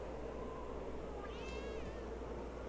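A cat in The Sims 2 lets out a single drawn-out meow partway through, fairly clear over a steady wash of ambient game background noise.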